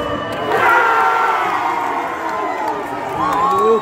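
Football crowd at a Paulistão 2023 match between Santo André and Red Bull Bragantino roaring and cheering as a penalty is awarded, a loud, sustained swell of many voices with shouts rising above the mass.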